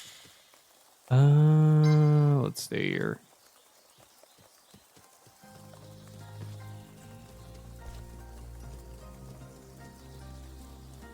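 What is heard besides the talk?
rain in video game Shenmue III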